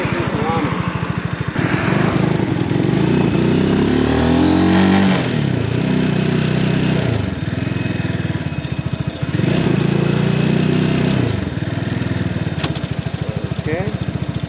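An X-Pro X24 250cc motorcycle is ridden with its engine droning and revving up and down through several acceleration cycles, close and loud, with a voice talking at times.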